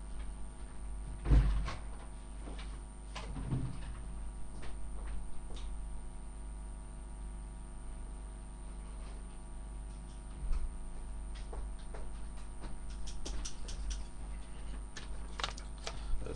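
Scissors cut a thin strip from a sheet of note paper while someone changes the pinion on an E-Revo RC car. Crisp, close snips and clicks are scattered through a quiet room with a low hum.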